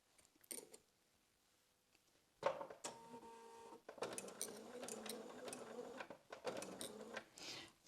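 A sewing machine stitches a quilt binding seam toward a 45-degree corner in bursts, starting and stopping, with a quiet pause before steady mechanical whirring runs for several seconds.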